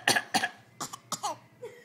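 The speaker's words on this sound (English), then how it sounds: "You got a bad cough?" Someone fakes a cough: four or five short, close coughs, a quick pair followed by spaced single hacks, with no speech between them.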